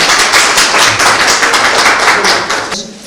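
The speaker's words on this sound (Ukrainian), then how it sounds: "даруємо тобі оплески" Clapping at a school awards ceremony for a young gymnast, a brisk burst of hand claps at close range that cuts off sharply near the end.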